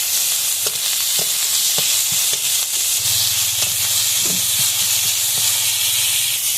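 Chopped onion frying in hot oil with garam masala and garlic, ginger and onion pastes, a loud steady sizzle and hiss with occasional stirring scrapes, close up and without speech.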